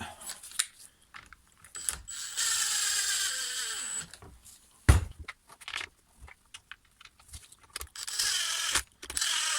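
Screws being driven with a hand or power tool to fasten the top shroud back onto an old Stihl FS 55 string trimmer under restoration, heard as intermittent mechanical whirring bursts and clicks with pauses between.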